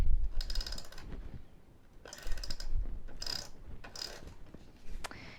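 An adhesive tape runner rolled across a wide card panel, giving several short bursts of ratcheting, clicking rolls separated by brief pauses, close and clear with no talk.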